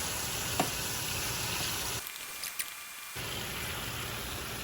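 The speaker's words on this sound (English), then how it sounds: "Okay, down to a simmer." Sauce with sour cream and butter simmers in a pan, giving a steady, close bubbling sizzle that continues with a brief quieter break partway through.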